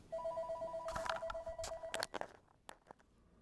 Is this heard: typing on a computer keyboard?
no